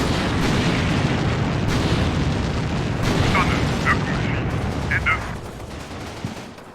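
Rapid, dense machine-gun bursts and booming fire roar through a WWII strategy video game, loud and sustained, with a voice apparently talking underneath.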